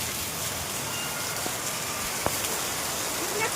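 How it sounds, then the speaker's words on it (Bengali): Water from a homemade shower pours down in a dense, steady splash with no pauses, close and loud, with a few faint taps within the wash of sound. "আমি এখন ঝর্ণায় স্নান করছি।"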